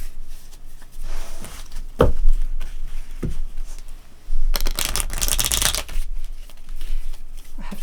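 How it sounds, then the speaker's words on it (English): Thick game cards for Solus Lost shuffled by hand, coming as several bursts of riffling flutter between quieter handling, taps and soft knocks, close up with no talking. "Shuffle your lost stack back into your deck"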